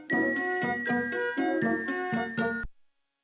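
Bright, tinkly chime notes from a 2006 Fisher-Price Learn Through Music Plus toy's small flowers ring out in a quick, even sequence of about seven strikes, each one ringing on before the sound cuts off abruptly.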